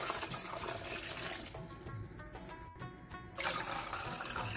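Water pours steadily into a pot holding a besan and yogurt mixture for kadhi pakora, giving a continuous splashing, gurgling stream that eases briefly before picking up again.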